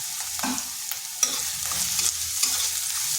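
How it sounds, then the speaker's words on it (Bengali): Garlic and onion frying in a pan while being stirred, a soft steady sizzle with repeated scraping stirs close by and no talking. "এরপর এগুলোকে হালকা একটু ভেজে নিচ্ছি যাতে রসুন আর পেঁয়াজের কাঁচা গন্ধটা চলে যায়"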